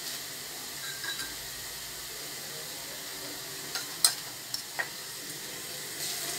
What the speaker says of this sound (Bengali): এখন আমি দিয়ে দেব এই জিঞ্জার গার্লিক পেস্টটা